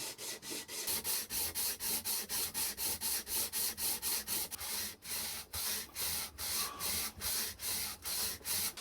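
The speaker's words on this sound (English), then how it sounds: "take a piece of sandpaper and a circular object and sand away all of the ridges, leaving it nice and smooth." Sandpaper rubbed against a circular object to smooth away ridges while making a guitar-building tool, giving steady rhythmic scraping strokes, close and fairly loud, repeating about twice per second with no talking.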